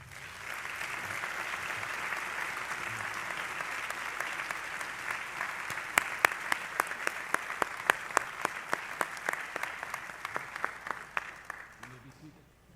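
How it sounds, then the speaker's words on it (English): An audience at an MLK-themed college ministers' and laity forum applauds steadily, the clapping swelling and continuing with sharper individual claps standing out toward the end. "Won't you now give them a round of applause?"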